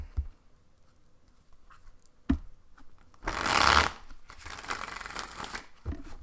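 A deck of tarot cards is shuffled up close, with a burst of riffling and a softer run of card shuffling, plus a few small taps and handling sounds in a quiet room.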